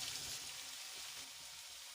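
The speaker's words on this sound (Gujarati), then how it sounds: "હવે આપણું લસણ સંતળાઈ ગયું છે" Garlic sautés in hot oil in a pan, a soft, even sizzle heard up close but quiet, with no voices.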